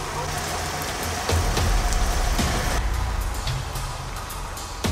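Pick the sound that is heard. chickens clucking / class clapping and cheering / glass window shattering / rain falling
rain falling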